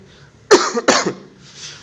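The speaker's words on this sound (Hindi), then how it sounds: "खांसी के लिए माजरत" Two sharp coughs come close together, loud and near, over a quiet background.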